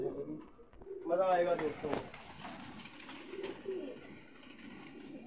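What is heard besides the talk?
pigeons cooing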